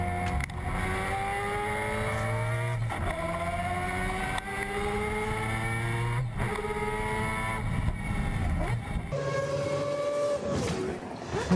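Recorded car engine droning and revving in steady waves, its pitch climbing and dropping repeatedly with sharp gear-change breaks, loud and close, then shifting to a higher whining rev near the end.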